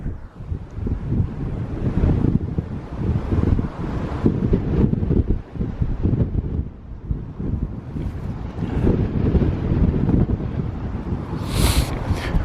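Cold midwinter wind blowing hard across the open landscape at Avebury, a steady loud buffeting rush with gusts striking the microphone throughout, no talking.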